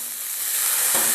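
A splash of water hits a hot pan of seared chicken and pork, setting off a loud, steady hiss of sizzling steam that fills the whole moment.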